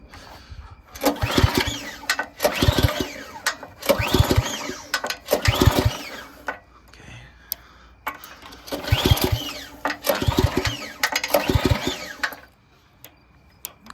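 A small go kart engine is pulled over, catches and runs in several separate bursts, a loud close putter broken by short pauses where it cuts out, with no talking.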